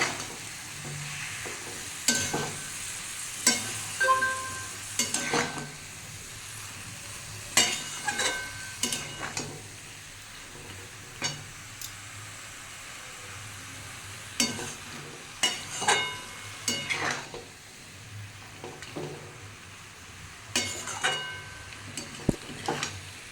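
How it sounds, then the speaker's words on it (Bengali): Cauliflower leaves and stalks sizzle in a pan while a spatula stirs and scrapes them in repeated bursts, steady frying underneath the rhythmic scraping. "দেখুন বন্ধুরা আমি কপির পাতা ডাটা সব দিয়ে দিয়েছি এই সবগুলো দিয়ে একটু একটু কষিয়ে নেবো"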